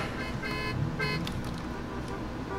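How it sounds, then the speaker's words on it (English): A car horn in GTA San Andreas gives a few short, moderately loud honks, two or three bursts spread across the stretch over a steady low engine drone. "Who is honking at me?"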